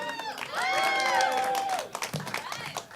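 An audience at a stand-up comedy show claps and cheers loudly, with whoops rising above a steady wash of applause that fades toward the end.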